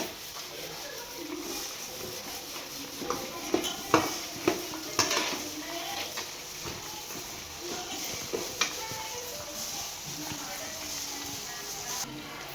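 Garlic and peanuts frying in a pan for festival cooking preparation, with a soft sizzle underneath and a series of clinking, scraping stirs against the pan in a cluster, while a person talks over it.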